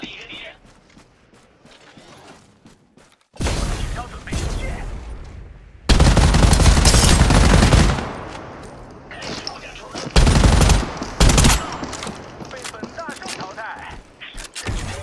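Video game gunfire comes in loud bursts of rapid shots, heaviest in one sustained volley in the middle, with quieter stretches between and game character voices speaking over parts of it.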